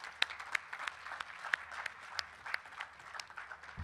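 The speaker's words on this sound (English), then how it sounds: "Let's welcome the panel on stage with a huge round of applause." A book-launch audience applauds to welcome a panel onto the stage: steady, dense clapping from a crowd at moderate distance, with no talking over it.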